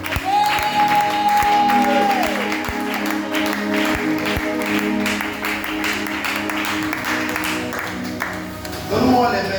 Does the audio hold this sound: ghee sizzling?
no